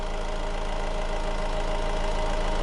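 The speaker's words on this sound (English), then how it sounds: "We've dropped the engine speed down to idle" A Honda CR-V engine, warmed up and dropped to idle during DPF cleaning, runs with a steady, loud mechanical drone and faint regular knocking throughout.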